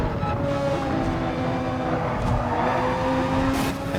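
Steady car engine hum from Gran Turismo 7 racing in VR through night-time Tokyo city streets, a continuous mid-level drone with sustained tonal lines and no talk.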